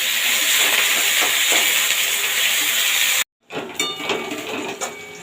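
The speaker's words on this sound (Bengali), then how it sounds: "এবার শুকনো লঙ্কা, রসুন, কাঁচা লঙ্কা চেরা আর পেঁয়াজ একসাথে দিয়ে তেলের উপর ভেজে নেব।" Dried chillies, garlic, split green chillies and onion fry together in hot mustard oil, giving a loud, steady sizzle and hiss that cuts off briefly, then returns with lighter crackling and small clinks.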